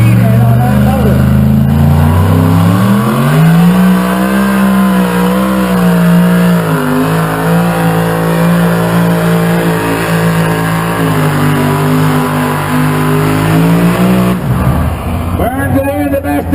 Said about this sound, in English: When he crosses 100 foot, he is going to be leaning on that motor.